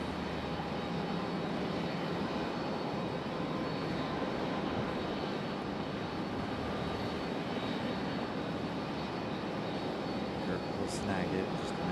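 An American Airlines jet on arrival at Raleigh-Durham, a steady, even engine rumble and whine holding throughout without building or fading, with talk in the background.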